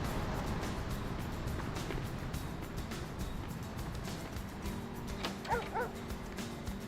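A dog barks in the video game Vampire the Masquerade Bloodlines, a few yips heard at moderate distance over a steady murmur of game ambience and background noise, with no talk over it.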